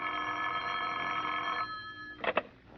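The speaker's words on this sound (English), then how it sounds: "The phone call came at 9:30." An old-fashioned telephone bell rings in a vintage radio detective drama, one long steady ring followed after a short pause by two brief bursts, clear and moderately loud with no voices over it.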